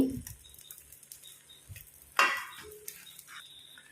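Fish and fish roe fry in masala in a pan, a low steady sizzle broken by a sharp burst of crackling and a few stirring scrapes, close and without talk.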